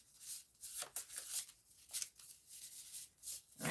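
Tarot cards are shuffled up close in repeated riffling bursts, a crisp papery flutter rising and falling with brief pauses between.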